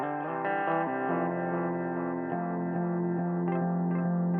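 A Sending V2 delay pedal set for tape-style echo, carrying a clean sustained guitar melody whose notes repeat and smear into a warm, chorused trail, moderately quiet with no talking.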